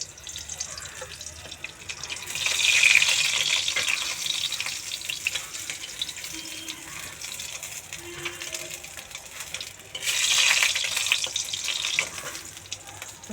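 Chopped garlic sizzles in a hot pan, a bright hissing fry that swells loud twice, once near the start and again toward the end, softer in between, with no talking over it.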